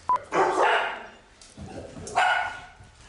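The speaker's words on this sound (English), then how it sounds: "Dogs." Dogs bark in two loud, close bursts, a short yip at the start followed by rough barking, then a second round of barks after a brief lull.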